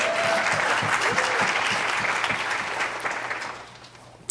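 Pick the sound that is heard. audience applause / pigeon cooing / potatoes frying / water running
audience applause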